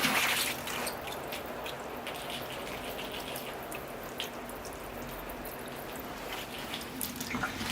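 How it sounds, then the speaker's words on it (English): Water pours over the sandy soil of a freshly repotted elm and spruce bonsai, making a steady, close splashing trickle with a few drips that continues throughout, with no talking. "I'll give it another watering just to settle that sand down a bit"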